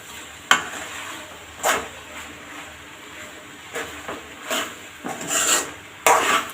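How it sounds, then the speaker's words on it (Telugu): Cooled pasta being mixed with salt and chili powder, with irregular scraping and rubbing strokes of a spoon against the pan, some sharper than others, close by and without speech. "చల్లారిన పాస్తా దీనికి వేసి ఉప్పు కారాలన్నీ బాగా పట్టేలాగా దీన్ని కలపండి."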